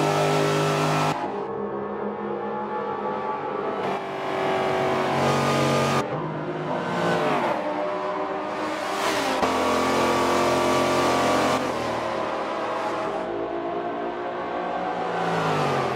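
Race car engines roar and rev through a left-turn-heavy oval race at Homestead in Forza 7, with loud, continuous engine drones rising and falling as cars accelerate and shift, alone without talk.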